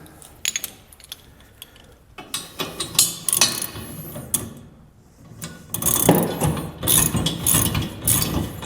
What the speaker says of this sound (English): we can go ahead and kind of run these down a bit with our wrenches